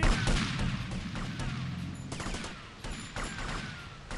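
Gunfire in the video game GTA Vice City: rapid, continuous volleys of shots at a moderate, steady level, with crackling impacts throughout and no voice.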